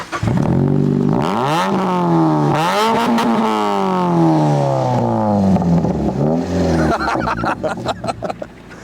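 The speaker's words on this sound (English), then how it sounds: "it's got a single exit Magnex exhaust in the centre, and that thing, it pops, doesn't it? Oh boy, does it pop." Mazda MX-5 Miata with a single centre-exit Magnex exhaust, revving hard in rising and falling sweeps, loud and close, then crackling and popping on the overrun toward the end.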